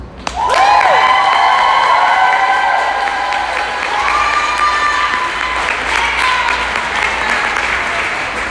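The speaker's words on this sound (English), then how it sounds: "welcome up to the stage with the loudest applause I've ever heard from all of you" A large audience claps loudly and continuously, with cheers and shouts rising over the sustained applause.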